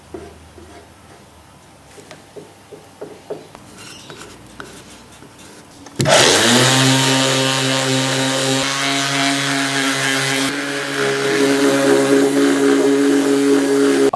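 A small power sander starts up on a car's engine bay, running with a steady, loud whirring rasp after a few quieter scrapes and handling noises, continuous and close with no talk.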